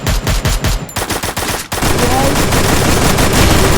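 Rapid video-game gunfire from an enemy engagement: a burst of separate close shots for about a second and a half, then a sustained, dense roar of continuous firing that fills the rest, loud and without talk.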